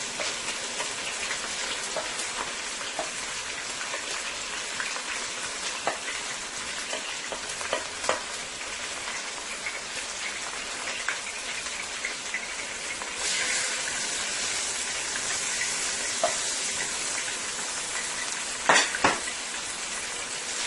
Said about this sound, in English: You're going to let it fry nicely into the oil, the garlic, and the onions.